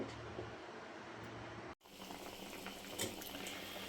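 Vegetables simmer in a pot of water in a Kerala home kitchen, a faint, steady bubbling with a brief break partway through and no talking.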